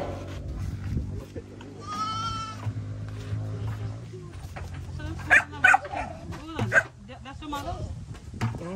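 Goats bleating on a farm, a few wavering calls rising over steady low rumble and background noise, mixed with people talking and a dog nearby.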